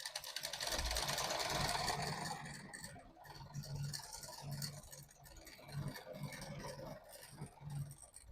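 A sewing machine runs steadily while stitching a round neckline on a suit with buckram, a close whirring hum followed by shorter stop-and-start bursts, with no voices.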